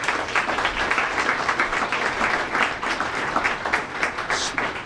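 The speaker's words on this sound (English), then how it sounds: "they really deserve a round of applause for all the work that they're undertaking" Dense applause rises from the audience at a school district board of education meeting, a steady, even wash of many hands clapping throughout.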